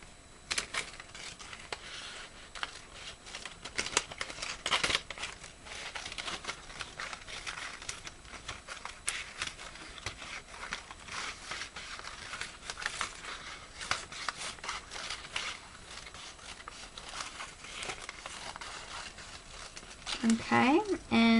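Scissors snip slowly through a paper Mobius band loop, a run of soft, close cuts and paper rustles under a voice talking throughout.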